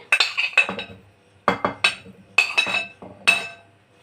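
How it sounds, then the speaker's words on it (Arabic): Metal cooking pot handled while dates are added for date jam, with clustered clinks and clanks in four separate bursts, close and crisp, with no talk. "هجيب الحله بتاعتي وهنزل بالبلح بتاعي"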